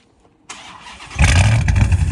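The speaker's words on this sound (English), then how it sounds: "All right, so we just did a cold start." Dodge Hellcat Redeye fitted with cat-less pipes fires up on a cold start, a brief cranking whir bursting into a loud, rough, aggressive idle right up close.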